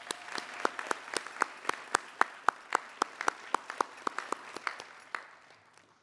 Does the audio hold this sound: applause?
yes